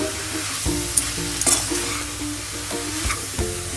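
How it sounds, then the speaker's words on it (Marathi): Grated fresh coconut and sugar scraped and stirred in a hot pan for sweet coconut barfi, a steady soft sizzle broken by several distinct spatula knocks and scrapes against the metal, close and alone. "असं छान परतून घेऊया आपण।"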